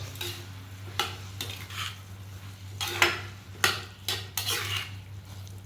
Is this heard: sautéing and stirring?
yes